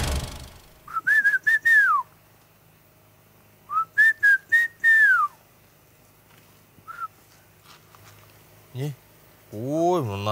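A person whistles clear, bending melodic phrases in two separate bursts, each a few quick notes that slide down in pitch. A shorter single whistle follows, then other noises near the end, in an otherwise quiet setting.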